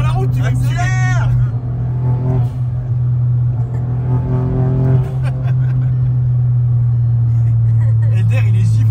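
A car on a public road drives with a loud, steady engine drone, revving high toward the rev limiter, while voices talk and shout over it throughout.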